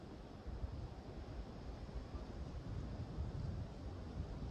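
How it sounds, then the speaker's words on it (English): Steady, rumbling wind buffets the microphone on a freezing day at a farm, a continuous low roar with no voices. "See how windy it is? See all this wind,"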